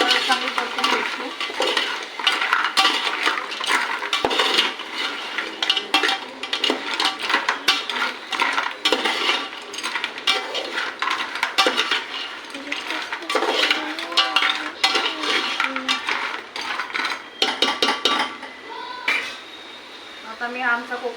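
Turmeric being sautéed and stirred in a pan for a Konkani crab curry, with a spoon clattering and scraping steadily against the metal pan throughout and a faint sizzle underneath, while a voice talks intermittently.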